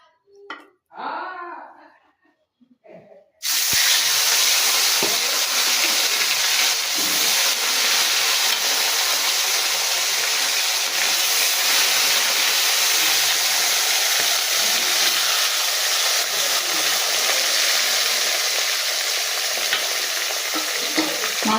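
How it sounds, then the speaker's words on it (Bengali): Following a few quiet clinks and a voice, a loud steady sizzle erupts as bhola fish hits hot oil, crackling and hissing continuously without letting up. "তেলটা খুব ভালোভাবে গরম হয়ে গেছে এবার আমি মাছগুলো দিয়ে দেবো"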